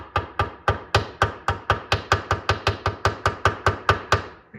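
A part on a Spy Hunter arcade cabinet's coin door is lightly tapped with about seventeen crisp, evenly spaced knocks in quick succession, each close and distinct with a short decay.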